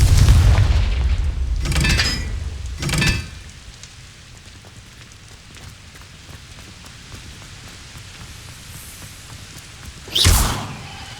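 Confringo spell blasts in the Hogwarts Legacy video game: a heavy booming burst opens, two more sharp explosions follow within three seconds, then a quiet lull before a final loud blast near the end.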